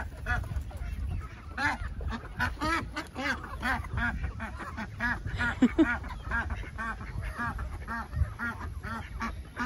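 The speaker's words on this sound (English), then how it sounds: "Watch the ducks." Many ducks quack in a busy, overlapping chorus, loud and close, with honking calls mixed in throughout.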